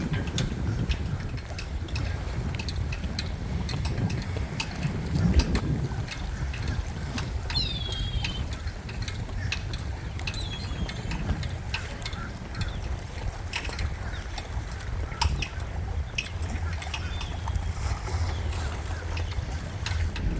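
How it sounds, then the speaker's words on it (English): Gusty wind rumbles against the microphone throughout by a river, a constant low buffeting with scattered small knocks and clicks outdoors. "It's very windy out here"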